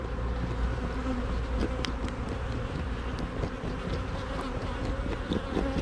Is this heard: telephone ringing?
no